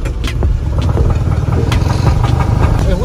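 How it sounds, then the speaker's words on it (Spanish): Car engine runs loudly while driving, with a steady low rumble and several sharp pops and bangs scattered through it, close and prominent. "¿por qué truena el carro"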